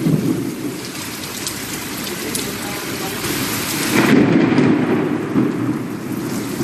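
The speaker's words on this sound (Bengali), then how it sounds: "তুমুল বৃষ্টি সঙ্গে ঝোড়ো হাওয়া আর মুহুর্মুহু বাজ।" A thunderstorm over Kolkata with heavy rain and gusty wind: dense, steady downpour roaring on surfaces, with rumbles of thunder swelling loudly partway through.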